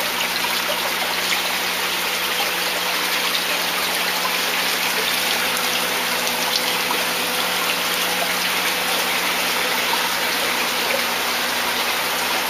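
Water flowing from a return line back into a fish-farm tank, a steady close splashing and trickling stream that runs on unchanged, with no voices.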